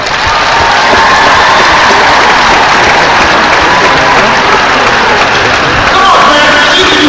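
Graduation commencement audience applauding loudly and steadily for the full stretch, dense clapping with some cheering mixed in, close and continuous from start to end.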